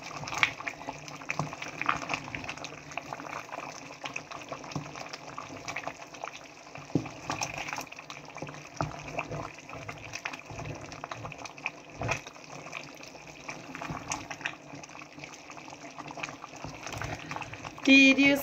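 Egusi soup bubbling and being stirred in a pot, a continuous wet simmering and sloshing texture, moderately loud and close, with a person talking intermittently over it.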